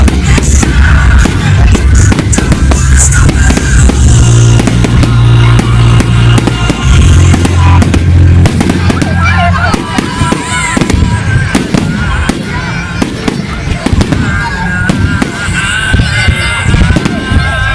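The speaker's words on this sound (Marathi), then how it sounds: "अशी ही सुंदर फटाक्यांची आतिषबाजी सर्वांचं लक्ष वेधून घेते." Fireworks display at a Bonfire Night celebration in Northampton, UK: a dense, loud barrage of rapid crackling bangs and booming bursts that continues throughout, with crowd voices underneath.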